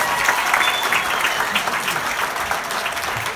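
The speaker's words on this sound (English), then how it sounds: "thank you for your applause" Comedy club audience applauding, a dense steady wash of clapping from a sizable crowd that holds at the same level throughout, close and fairly loud.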